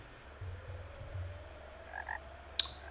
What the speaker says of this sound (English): These frogs are actually driving me insane. They are so loud, and there are so many of them.